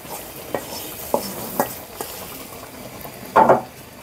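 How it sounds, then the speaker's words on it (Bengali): Hot spice tempering is poured into achari dal cooked with chicken, giving a short, loud sizzling burst near the end after a few light clinks and stirring taps against a pot. "এবার ফোড়নটা আমি এই ডালের ভিতরে দিয়ে দেব।"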